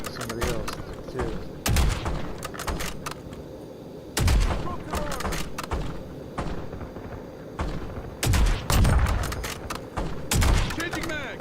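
Rapid bursts of automatic gunfire and heavy impacts in Call of Duty Black Ops 6 repeat in loud clusters through a firefight, with players talking over the shooting.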